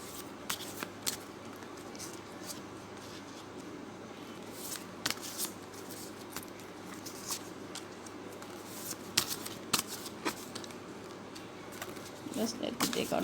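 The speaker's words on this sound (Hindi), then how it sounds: "Just let me take out one card more" Tarot cards being shuffled and drawn, with soft riffling, sharp snaps and flicks scattered across the clip and a denser rustle at the end, fairly quiet and close.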